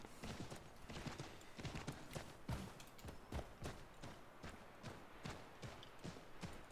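Horse hooves clip-clop steadily in a colonial-era video game, a quick even rhythm of close, crisp strikes that runs throughout at moderate loudness, with no talk over it.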